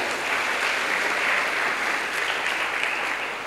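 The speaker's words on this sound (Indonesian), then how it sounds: "Tepuk tangan saudaraku semua" Sustained applause from a school assembly audience of ninth-grade students at SMP N 2 Purworejo, a dense steady wash of clapping at even loudness throughout with no voices over it.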